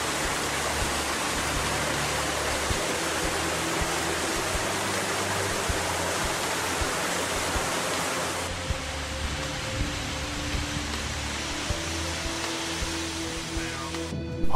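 Icy underground river and waterfalls inside a cave on an expedition in Norway: a continuous, loud rushing roar of water that shifts slightly partway through, with no talking.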